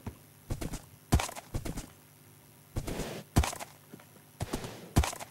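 Horse hooves clip-clopping in the video game Minecraft, a few short pairs of hoof clops spaced irregularly with pauses between them, fairly close.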